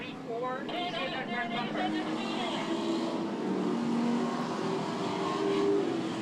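Stock cars racing at Hudson Speedway, engines droning and revving in a steady, sustained roar, with a race announcer talking over the noise throughout.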